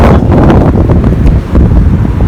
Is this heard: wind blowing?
yes